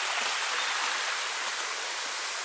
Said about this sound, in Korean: 천연 폭포가 있습니다.